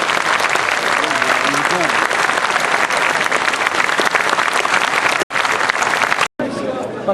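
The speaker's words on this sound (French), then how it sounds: "Applaudissez-les, ils vont bien travailler" Sustained loud applause from a convention audience of Lions club members, dense clapping with murmured crowd voices underneath, briefly cut twice near the end.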